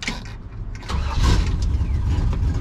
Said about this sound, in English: Hit the key and the truck fires right up.